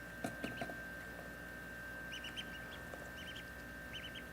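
Three young ducklings peep and chirp softly in short, repeated bursts while feeding, faint and close over a quiet background hum.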